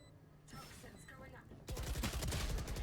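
Gunfire in a Valorant match on the Pearl map: softer in-game sounds at first, then a loud sustained spray of rapid automatic shots filling the second half.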